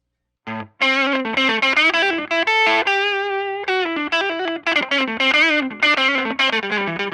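Electric guitar through a Catalinbread Dirty Little Secret III 18V distortion pedal set with treble and mids full and bass off: loud, bright, cutting distorted chords and riffs played steadily for several seconds, close and alone.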